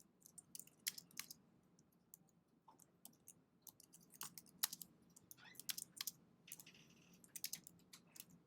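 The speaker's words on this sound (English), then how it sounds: "I'm just going to I'm going to type in some text here." Keys clatter on a computer keyboard in uneven bursts of quick taps, close and fairly quiet, with short pauses between runs of typing and no voices.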